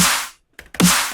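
Two hard snare hits, each followed by a bright hissing cymbal wash that fades, separated by a short silence.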